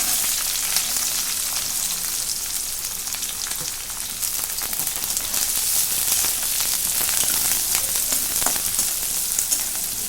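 Onion fries in a pan with garlic browned to a reddish colour, giving a steady, loud, bright sizzle that stays even throughout.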